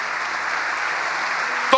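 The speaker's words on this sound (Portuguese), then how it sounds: "Dê um aplauso ao Senhor." A church congregation applauds in praise, a dense, steady wash of clapping from many hands that fills the room without pause, ending in a sharp knock.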